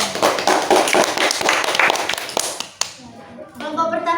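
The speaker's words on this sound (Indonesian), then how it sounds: "Kasih aplaus dulu dong." Classroom applause from a group of students, a burst of brisk overlapping claps that runs loud for about two and a half seconds, then fades out as a voice starts talking.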